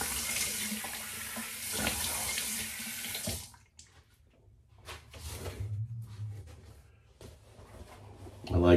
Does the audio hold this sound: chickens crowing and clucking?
no